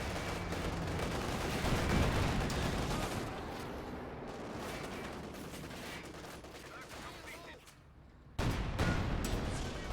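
Gunfire and heavy tank cannon shots from a World War II strategy game match between an IS-2 and a Panzer IV, booming and rattling in dense bursts with a brief lull before another loud blast.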